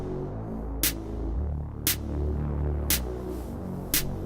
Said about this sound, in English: the first thing is the snare.